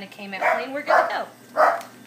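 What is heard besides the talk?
dog barking in the backyard at a plastic bag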